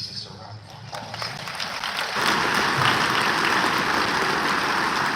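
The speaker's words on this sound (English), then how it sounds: "I think we should just give Jesus a round of applause." A church congregation applauds for Jesus, the clapping starting thin and swelling after a couple of seconds into a loud, sustained wash of many hands that continues to the end.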